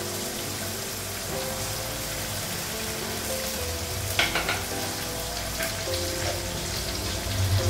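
Ginger paste fries with onions in a pan, giving a steady, moderately loud sizzle with a few brief scraping stirs partway through; no voices.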